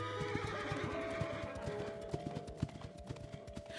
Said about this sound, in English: Their servants and horses divide the forest into chaotic, noisy sections.